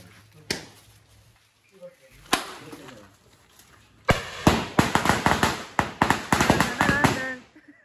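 A few isolated sharp cracks, then a rapid string of loud firecracker bangs bursting close by during a Ganpati immersion procession in Konkan, with voices in the background.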